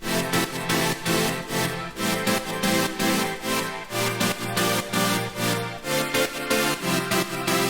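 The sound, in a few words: main drop with super saws and pads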